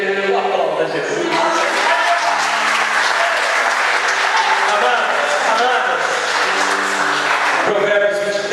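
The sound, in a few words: congregation applauding in church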